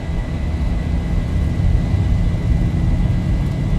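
Boeing 737-800 engines spooling to takeoff power in the X-Plane 11 flight simulator, a loud, steady, low jet roar holding throughout.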